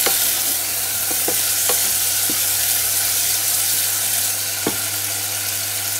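Tomatoes fry in a pan with a steady, loud sizzle, broken by a few sharp scraping stirs and clicks of the utensil against the pan.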